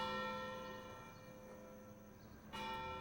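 The bell of St. Mary's church chimes to call worshippers to Mass, a sustained ringing tone fading slowly before a fresh strike rings out near the end, with no voices.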